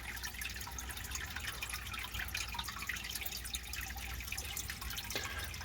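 Water drains steadily from a 135 gallon fish tank with a faint, continuous trickling and dripping, quiet and without voices.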